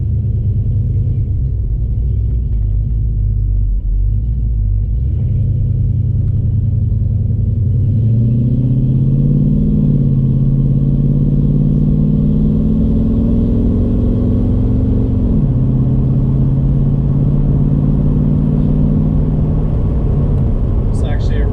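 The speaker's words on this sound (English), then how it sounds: "gotta love the sound of a cam" A deep, lumpy cammed V8 in a 1988 Fox-body coupe rumbles steadily at idle and low speed, loud and close, its pitch rising and dropping as the throttle changes.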